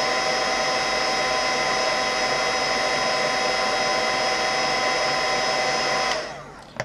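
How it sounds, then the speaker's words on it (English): A heat gun blows hot air at a wooden stamp, a loud, steady whooshing roar with a constant whine that cuts off abruptly near the end, followed by a brief knock. "moving the heat gun just a little bit back and forth to avoid direct scorching heat"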